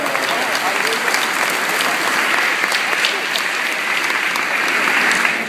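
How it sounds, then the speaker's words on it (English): Sustained applause from a school staff audience at a speaking event, a thick, even roar of clapping from many people with some voices mixed underneath, holding steady throughout. "Give him a round of applause."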